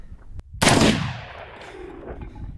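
A single loud gunshot from a Smith & Wesson M&P 15 AR-style pistol, a sharp crack followed by a long rolling echo, with faint background noise and no talk.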